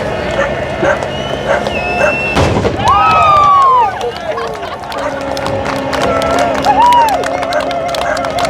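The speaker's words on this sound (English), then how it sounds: "there will be a cannon fire" A cannon fires at the finish of the Sydney to Hobart yacht race, a single loud boom standing out over wind, crowd noise and excited commentary.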